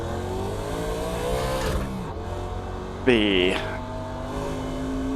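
A NASCAR Legends race car in the racing game iRacing holds a steady engine drone at Rockingham, then revs sharply about halfway through before easing back, while someone talks over it.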